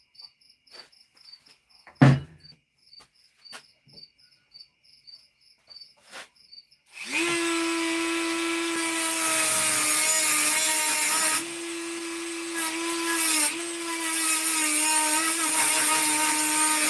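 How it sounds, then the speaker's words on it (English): After a few quiet clicks and taps, a Dremel rotary tool spins up into a loud, high whine as it cuts, holding steady for several seconds with a brief dip partway through. "See if I can cut this. I'll cut better. Good old Dremel tool."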